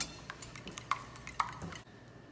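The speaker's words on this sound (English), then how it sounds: "what I'm going to do with the egg whites is just whisk it up" Egg whites for macarons are whisked in a bowl, giving a quick run of light metallic clinks and scraping taps close by. The sound stops abruptly just before the end.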